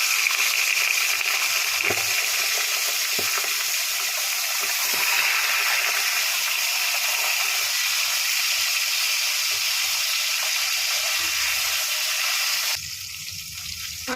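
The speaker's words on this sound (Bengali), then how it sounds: "তেলটা গরম হয়ে গেছে মাছের মাথাগুলো ভেজে নিই" Fish heads frying in hot oil on a gas stove give a loud, steady, close sizzle that holds almost unbroken, with a few faint knocks, before the hiss drops and turns lighter near the end.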